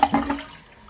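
Water is poured into a toilet bowl, a short splashing gush that starts loud and close and then trails off quickly.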